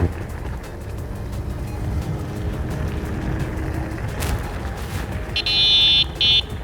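A short electric beep from the horn of an AUSOM L1 electric bike: a bright, clipped tone sounds twice in quick succession near the end, over steady outdoor riding noise.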